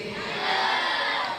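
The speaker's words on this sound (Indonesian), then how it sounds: "Tepuk tangan yang meriah untuk seluruh panitia tabligh akbar" Crowd cheering and applause at a village anniversary tabligh akbar gathering, honoring the organizing committee; a dense, steady roar of whoops and shouts sustained throughout, with no distinct speech.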